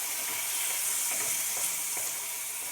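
Meat sizzles steadily in a pan on a home stove, a bright continuous frying hiss broken by soft scrapes as it is stirred, close and even throughout with no talking.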